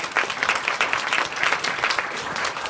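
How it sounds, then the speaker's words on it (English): A crowd of kids and parents applauds a child named Lexi at a live event, a steady, full round of many hands clapping at even loudness without letup. "Give Lexi a round of applause."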